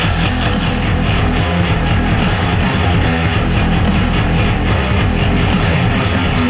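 A dense, loud metalcore track plays through a laptop speaker, with layered drums pounding continuously under distorted guitars that fill the sound without a break.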